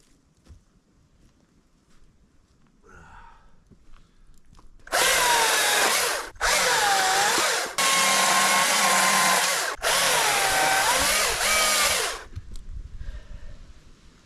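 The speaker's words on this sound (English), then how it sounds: "Let's get the little battery chainsaw out and cut it up." A small battery-powered chainsaw cuts firewood at a snowy high-country campsite, running in four loud, steady whining bursts with brief pauses between cuts, close to the listener.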